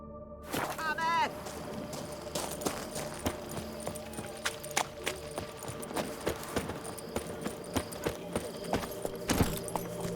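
Hooves of Geralt's horse Roach clatter in a fast, regular clip-clop rhythm in The Witcher 3: Blood and Wine, with jangling tack and scattered game sound effects, and voices are heard talking over it early on.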